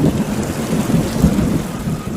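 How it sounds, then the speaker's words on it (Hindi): Heavy rain pours down steadily in a loud, dense wash with a deep rumble of thunder running underneath, continuous throughout with no voices. "आखिर एक दिन काले काले बादल आसमान पर घिराए और छाजों पानी बरसने लगा।"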